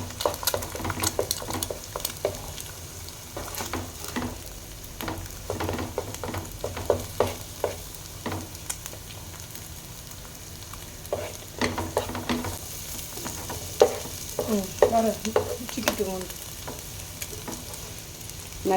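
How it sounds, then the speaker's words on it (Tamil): Eggs and vegetables sizzle in a pan for street-style egg fried rice, with a spatula scraping and stirring in quick irregular bursts over a steady frying hiss. The sound is close and there is no talking. "சிக்கிட்டு மிக்ஸ் பண்ணிக்கோங்க வெஜிடபிளோட"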